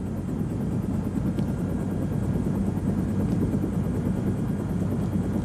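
A helicopter seized during a military exercise in a Russian action film roars steadily and loudly, its rotor thumping in an unbroken drone throughout.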